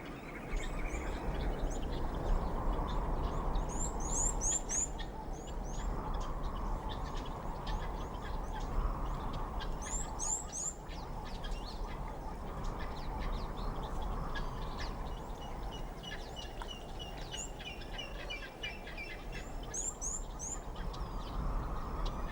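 Scattered calls of migratory birds over the Sahara, short high chirps in small bursts, ring out faintly over a steady low rumble of wind.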